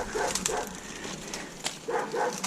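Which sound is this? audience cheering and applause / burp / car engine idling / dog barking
dog barking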